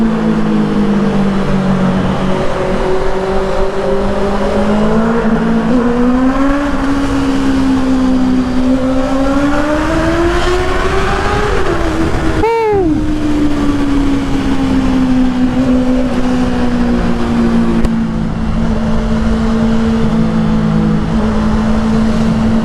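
A Honda CBR650R motorcycle fitted with a new full exhaust revs inside a tunnel, a loud, echoing engine note that climbs and falls repeatedly, with a sharp rev spike near the middle, continuous throughout.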